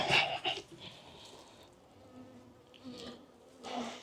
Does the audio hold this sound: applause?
no